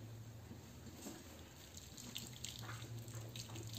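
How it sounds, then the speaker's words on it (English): Soya milk poured through a cheese net, a steady, soft watery trickle with a low hum underneath, heard alone with no talking. "I just pour my soya milk here"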